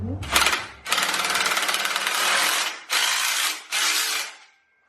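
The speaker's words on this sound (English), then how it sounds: "we're going to use the drill" A power drill whirring loudly up close in several bursts, each run lasting a second or more with short pauses between, then stopping.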